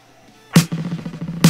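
A snare drum run through reverb with diffusion turned up: two sharp, loud hits separated by a dense, quickly fluttering reverb tail that decays between strikes.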